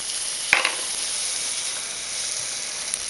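Butter sizzles steadily in a hot pan as the base for a mushroom sauce with onion and pancetta, a continuous close hiss broken by a brief clink near the start.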